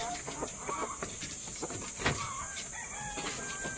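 Chickens cluck and chatter nearby while a rooster crows, the calls overlapping against a steady outdoor background hiss.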